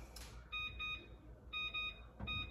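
Kitchen timer being set for a casserole, giving a series of short, high electronic beeps in quick pairs and groups, close and clear over a quiet room.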